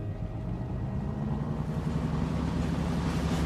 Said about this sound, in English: Listen, the engines are starting again.